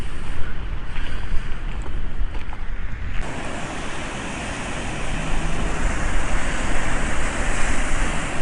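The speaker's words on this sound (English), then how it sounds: "The waves are certainly a lot larger, and they are crashing against the rocks." Large ocean waves crash against the rocks of a jetty at Morro Bay, a loud continuous roar of surf and rushing water, with wind buffeting the microphone.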